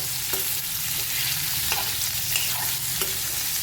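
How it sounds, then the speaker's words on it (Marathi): Garlic sautéing in a little oil over a full high gas flame for tomato chutney, a steady close hiss of frying with a few soft stirring scrapes and taps, no voices. "आता हा इथं फुल मोठा गॅस ठेवलेला आहे आणि हे असं परतवून घ्यायचं थोड्याशा तेलावर."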